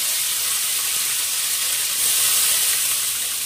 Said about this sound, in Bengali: দেখো এবার আলু ভাজছে